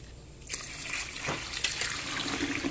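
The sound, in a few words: water being poured into cooking pot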